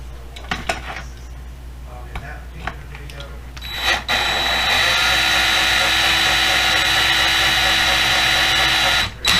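Light clinks and taps give way to a loud, steady whine of a power drill, with a dab of oil on the bit, running continuously for several seconds before stopping abruptly.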